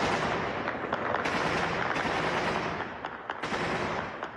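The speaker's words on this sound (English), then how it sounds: "I discovered that gunfire is an almost daily occurrence in the Afghan capital." Rapid bursts of gunfire crackle through Kabul, Afghanistan, dense and sustained with sharp individual cracks, fairly loud and echoing.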